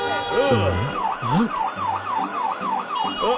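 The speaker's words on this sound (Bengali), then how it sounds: "অ্যাম্বুলেন্স ফেসে গেছে, আমাদের সাহায্য করতে হবে।" Cartoon ambulance siren wailing in a rising and falling pattern, loud and close amid a traffic jam, with a voice and honking-like tones briefly under it.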